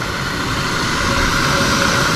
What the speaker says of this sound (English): Got the jet boil going.